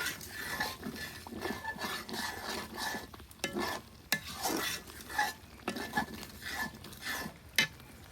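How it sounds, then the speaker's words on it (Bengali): Spices stir-fried in oil in a pan, close-up sizzling with frequent scraping and clinking of a spatula or spoon against the pan, in an irregular rhythm. "ভালো করে একটু কষা লাগবে মশলাটা"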